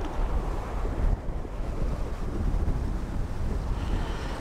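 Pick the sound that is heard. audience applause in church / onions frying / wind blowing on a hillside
wind blowing on a hillside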